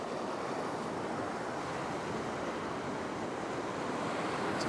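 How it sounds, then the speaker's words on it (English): Ocean waves wash and break against rocks along a winter rock-fishing shoreline, a continuous broad roar of surf with wind over it, steady and fairly close. "So just watch those waves."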